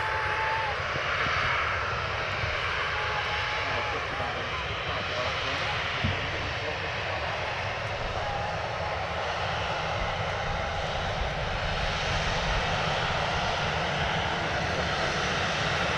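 An Emirates Airbus A380 departing Manchester Airport gives a sustained, broad engine roar at a distance, holding steady throughout, with people talking faintly over it.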